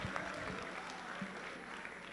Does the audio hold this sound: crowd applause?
yes